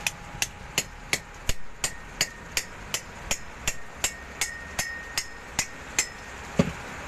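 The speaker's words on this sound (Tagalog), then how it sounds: "Pukpok lang ng martilyo" Metal hammer strikes on a rusty ceiling fan part, a steady series of about seventeen sharp, evenly spaced blows at close range, ringing briefly with no talking.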